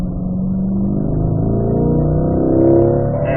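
A race car on a track accelerates under light throttle, its engine hum close and prominent, rising gradually in pitch and swelling slightly near the end, with no talking.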